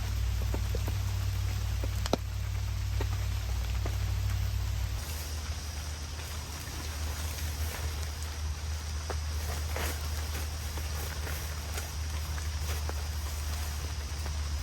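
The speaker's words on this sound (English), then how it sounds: "You might hear the rain, but it's not very heavy." Light rain patters on a campsite tarp in a steady, soft hiss, with scattered individual drops tapping close by and a low rumble that drops away partway through.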